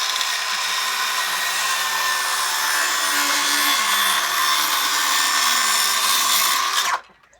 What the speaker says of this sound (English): I'm going to use a little handheld circular saw, battery operated circular saw,